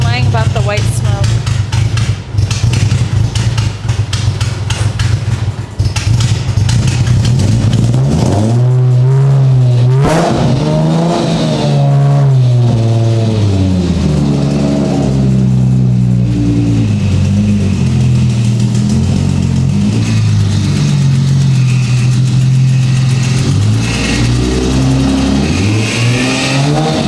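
A drift car with a blown engine cranks and fires, then revs repeatedly in rising and falling surges, loud and close, with people talking over the rough engine noise.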